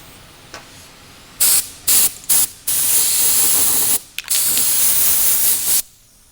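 An aerosol can sprays a light guide coat over sanded body filler on a car panel, giving several short, loud, close hissing bursts followed by two longer sustained sprays, alone with no talking.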